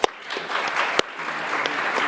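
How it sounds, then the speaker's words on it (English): A conference audience at a financial inclusion summit applauds the panel, a brief dense burst of clapping with a couple of sharp louder claps standing out. "So a big round of applause."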